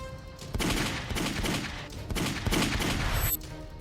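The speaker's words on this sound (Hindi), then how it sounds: "20 सेकंड में 13 राउंड फायरिंग हुई।" Rapid pistol shots ring out in a fast, uneven volley of loud, sharp bangs over a few seconds, sounding like gunfire in an outdoor street shooting.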